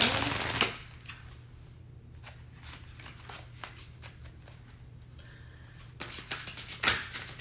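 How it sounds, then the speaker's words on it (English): Close riffle-shuffling of tarot-style cards: a burst at the start, then soft rapid ticking flicks, ending with more vigorous shuffles; no speech. "So I'm gonna shuffle these and then I'll explain everything."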